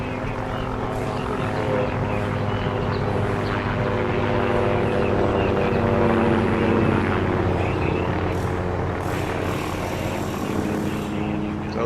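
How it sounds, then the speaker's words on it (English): A continuous loud drone of jet aircraft engines in the video game ARMA 3 fills the scene, steady and overhead-sounding, with a constant low rumble and no clear talking. "You can hear some jets overhead."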